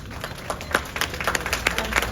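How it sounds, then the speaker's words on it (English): Scattered applause from the audience at a county library board meeting, a modest patter of claps over a quiet room, with a few sharper individual claps standing out. "Please hold your applause"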